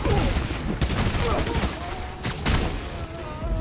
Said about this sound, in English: Firing on Spider-Man!